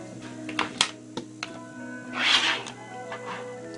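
Cherry MX White switches on a mechanical keyboard produce a handful of crisp, separate keystroke clicks at irregular intervals, near and fairly quiet, with a soft rustling burst in the middle.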